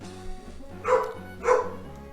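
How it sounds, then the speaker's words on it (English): Two sharp dog barks, about half a second apart, ring out over steady background music in the Pokemon Emerald video game. "Well, Doggo's barking."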